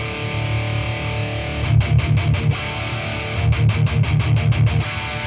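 An electric guitar plays through the crunch channel of a Framus Cobra amp, loud and distorted, with rhythmic bursts of chugging, palm-muted chords separated by a short pause of ringing sustain.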